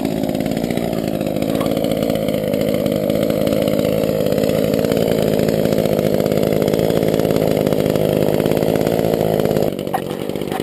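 A chainsaw engine idling steadily after a cold start, a continuous close buzzing drone holding even throughout, with a slight drop in level near the end.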